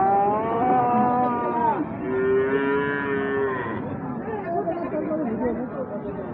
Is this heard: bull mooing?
yes